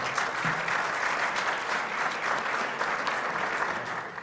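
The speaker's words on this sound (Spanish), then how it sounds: "Un aplauso, por favor" An audience at an education conference applauds the archbishop of Salta, a dense, even wash of clapping that holds steady from start to finish.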